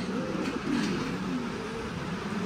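Low, rolling coos from several homing pigeons fill a loft, soft and continuous at close range, with a slight swell partway through.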